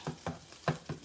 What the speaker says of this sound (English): fry the rice on this side